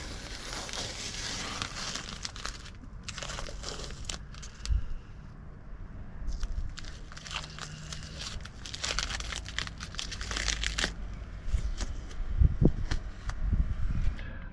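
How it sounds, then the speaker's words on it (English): Masking tape is peeled off the body of a VW T4 van, giving crinkling, crackling bursts of tape pulled away in uneven spurts over a low background hum. "Pull off the masking tape before it gets dry."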